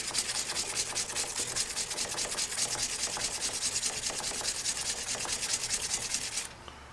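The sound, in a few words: sanding wood sideways with sandpaper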